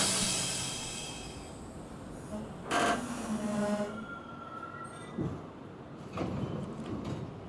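A New York subway 6 train bound for Brooklyn Bridge, with a steady rumble of the running car, a loud door or brake hiss midway and a few brief squeals near the end.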